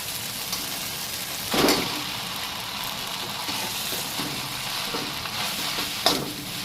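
Boiled pasta being stirred into a spicy egg mixture in a hot pan, a steady sizzling hiss broken by two louder scraping stirs of the spoon, close and loud, with no talking.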